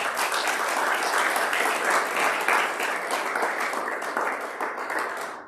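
A church congregation applauds the Lord during a sermon, sustained dense clapping from many hands that holds steady and loud throughout before easing slightly at the end, with no voices over it.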